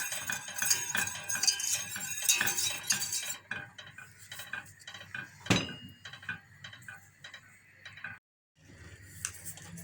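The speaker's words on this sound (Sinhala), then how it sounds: "උකු වෙනකම් ඇදි ගන්න." Spoon stirring a thickening sauce in a pan, giving quick light scraping and clinking strokes that come in busy bursts, then sparse isolated taps, one louder knock and a brief pause before the stirring resumes.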